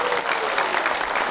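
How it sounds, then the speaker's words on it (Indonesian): Supporters of the mayoral candidates applaud at a Ternate local election debate, a dense, steady wash of clapping from a large crowd close by, continuous through the moment. "Tepuk tangannya."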